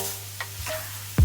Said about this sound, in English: just mix that around for a few minutes so it can simmer